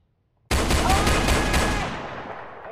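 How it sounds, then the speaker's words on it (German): A sudden burst of rapid gunfire from a gun in the Roblox game Brookhaven erupts after a brief silence, loud and close, then trails off into a fading echo. "Und jetzt schieße ich ihm in den Hinterkopf."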